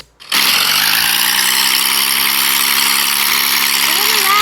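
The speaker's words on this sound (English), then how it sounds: "Today we're flying DA-42." The engine of a Diamond DA-42 aircraft in a flight simulator game kicks in abruptly after a brief quiet start, then holds as a loud, steady droning hum with a faint warbling tone near the end.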